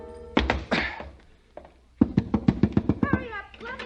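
A heavy thud of a man dropping through a skylight in a radio drama, followed by a quick run of knocking impacts, with a voice speaking around them.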